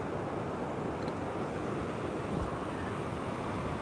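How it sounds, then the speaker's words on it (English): Ocean surf breaks on the shore at La Caleta, a continuous broad wash of waves mixed with wind noise on the microphone. The roar is steady, with no talk. "oh my God, those waves"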